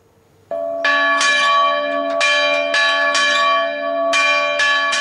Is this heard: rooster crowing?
no